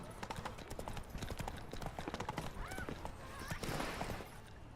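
Roach, Geralt's horse in The Witcher 3, clops along in quick hoofbeats, fairly close, with a brief whinny-like call partway through and a faint voice alongside.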